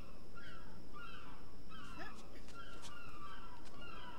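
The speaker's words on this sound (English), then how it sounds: "why seagull noises? It's the worst" Seagull noises in the video game Submerged: several harsh squawking calls repeat irregularly over a steady ambient background, moderately loud and overlapping.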